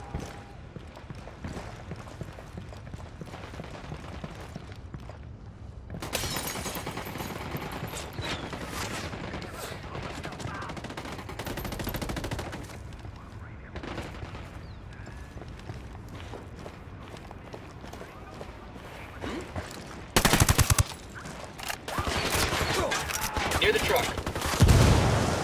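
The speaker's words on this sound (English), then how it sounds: "I'm opening fire on these shitheads" Sustained bursts of gunfire in the tactical shooter game Ghost Recon Wildlands, with repeated shots over running footsteps and a few louder, sharper volleys near the end.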